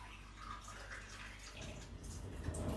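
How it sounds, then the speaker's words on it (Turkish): Warm water is poured onto three spoonfuls of sugar in a bowl while making yeast dough for bakery-style pogaca, a steady close splashing pour lasting the whole moment with no talk over it. "Evet, ılık suyumu koydum."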